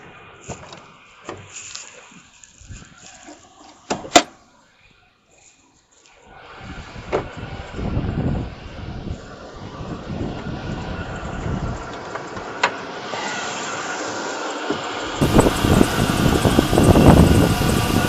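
A GMC Sierra's 5.3 liter V8 engine under an open hood: a few faint clicks and a quiet pause, then the engine runs in a steady close rumble that grows slightly louder toward the end.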